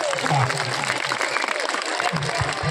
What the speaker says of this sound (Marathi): आता एकदा टाळ्या वाजवा हात वर करून.